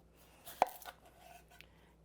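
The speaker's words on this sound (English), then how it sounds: "Chopping up an onion." A knife cuts through an onion on a cutting board in a home kitchen, giving one sharp close chop followed by a few softer, scattered cutting taps.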